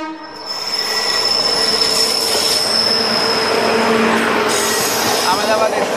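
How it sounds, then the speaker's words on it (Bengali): The Azad Hind Express passenger train rolls along at speed, heard from inside as a loud continuous roar of wheels on rails with high metallic squeals, and no clear speech. "ট্রেনটার এখন অ্যাভারেজ স্পিড 85।"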